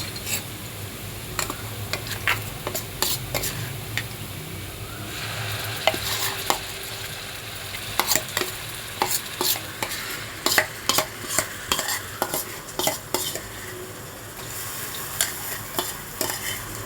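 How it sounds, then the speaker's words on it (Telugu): Chicken curry masala being stirred and fried in a pan, with steady sizzling under repeated sharp scrapes and clinks of a spoon against the pan, close and fairly loud throughout. "ఒకసారి మొత్తం చక్కగా ఫ్రై అయ్యేలాగా కలియబెట్టుకోవాలి."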